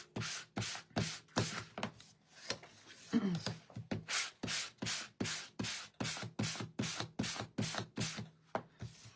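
Rhythmic back-and-forth sanding of a laser cut wood sign, roughly twenty quick strokes with brief gaps between them, close and fairly quiet, with no talking.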